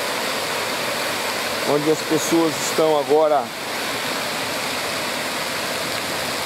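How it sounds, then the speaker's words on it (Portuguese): Steady rushing water of the Antônio Monteiro waterfall in Pocinhos do Rio Verde fills the air as a constant broad wash, with someone talking briefly over it midway. "Lá está a cachoeira"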